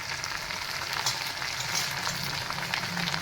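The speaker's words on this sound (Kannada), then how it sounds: "ಚೆನ್ನಾಗಿ ಎಣ್ಣೆಲಿ ಫ್ರೈ ಮಾಡ್ಕೊಂಬಿಡೋಣ" Gongura sorrel leaves frying in oil in a pan give a continuous dense crackling sizzle, steady and close, with no talk.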